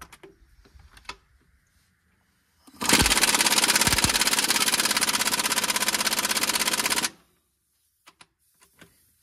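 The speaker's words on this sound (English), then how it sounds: "So I'm going to loosen these bolts here to loosen these wedges which hold the wheels onto" Air impact wrench hammers for about four seconds on the wedge bolts holding a rear wheel to the axle of a Farmall Super M-TA tractor, a loud rapid rattling burst framed by quiet clanks and clicks of handling.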